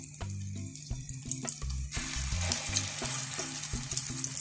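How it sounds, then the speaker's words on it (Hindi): Chicken shami kababs coated in egg shallow-frying in oil, a steady broadband sizzle running throughout with a few clattering handling noises, close and fairly loud with no talk. "ये मैंने अंडे में इसको डिप किया और ये फ्राई होने के लिए रख दिया।"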